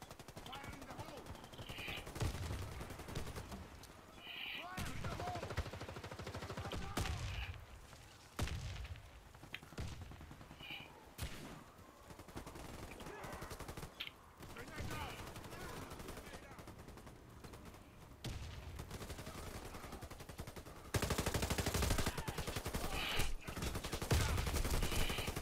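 AK rifle gunfire in a video game, rapid automatic bursts and single shots repeating throughout, moderately loud with game effects, while players talk over the action.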